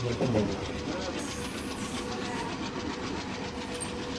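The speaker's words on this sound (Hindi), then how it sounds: "साइड से क्रॉसिंग हो रही है WDM 3D लोकोमोटिव के साथ" A WDM 3D locomotive hauling an ICF Utkrisht rake crosses in Trainz Simulator, producing a steady, loud rumble of wheels on rails with a faint rhythmic clatter and hiss that carries through the whole stretch.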